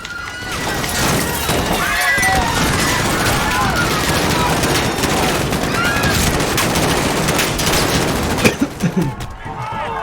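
Dense gunfire in the video game Call of Duty Modern Warfare, with rapid bursts and explosions crackling continuously and loudly, while players talk over the battle.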